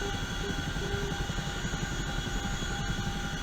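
Steady, close rotor and turbine drone of a helicopter hovering and taxiing in the DCS flight simulator, a continuous even roar with a constant high whine, no talk over it.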